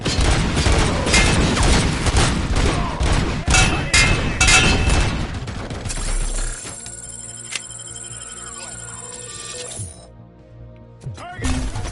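Combat in RoboCop: Rogue City, with heavy gunfire and a grenade blast with shattering debris, loud and close for about six seconds, then a quieter tail of ringing electronic tones and a few scattered hits.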